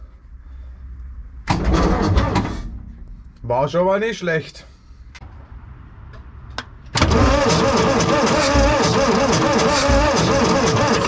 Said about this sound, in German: Wir haben ja den Motor jetzt einmal durchdrehen lassen.